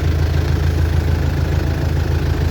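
A DTZ 5404 tractor engine idles at about 1000 rpm while turning potatoes in a field, a loud, close, steady diesel chug with an even low pulsing throb and no talking.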